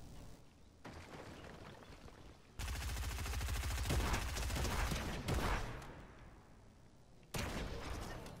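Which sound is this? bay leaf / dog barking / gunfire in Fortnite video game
gunfire in Fortnite video game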